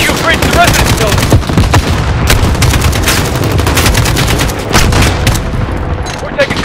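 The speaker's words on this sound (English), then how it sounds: "We're taking fire from the residence!" Sustained Call of Duty: Modern Warfare 3 firefight around a residence, with dense rapid automatic gunfire and booming shots loud and close throughout, and soldiers shouting under the gunfire.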